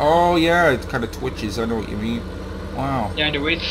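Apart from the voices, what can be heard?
No everyday noises stand out.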